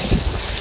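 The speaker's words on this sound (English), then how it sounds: "windy out here" Strong wind buffets the microphone outdoors, a loud, continuous rush with gusty swells throughout the short stretch and no clear talking.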